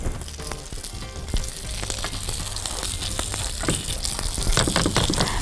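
Hawawshi, meat-stuffed bread, frying in a pan with a dense, continuous crackling sizzle close up, a few bumps and scrapes as it is turned, loud and steady throughout with no speech.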